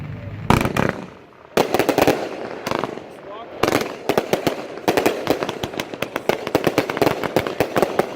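Close-range consumer fireworks demo of a Dragon mortar cake: repeated sharp launch thumps and loud crackling bursts fire in rapid, irregular volleys, with brief pauses between clusters and voices talking faintly in the background.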